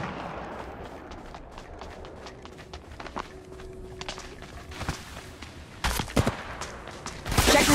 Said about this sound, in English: Another squad is firing